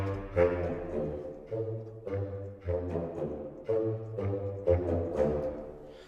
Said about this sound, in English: One of my favourite patches is the Woodwind Low Section